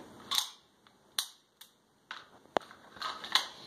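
A gun handled at a shooting range while being checked to show it is unloaded gives a series of close, crisp metallic clicks and snaps, spaced irregularly with quiet gaps between.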